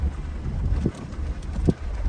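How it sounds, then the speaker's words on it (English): Low, steady wind on an exposed ridge rumbles and buffets against the microphone, with a couple of brief stronger gusts. "it is super, super windy up here."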